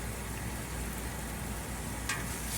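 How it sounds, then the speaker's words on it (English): Onions and celery sauté in a pot over a medium-high flame, giving a faint, steady sizzle with a brief scrape or clink near the end. "This will saute your onions and celery"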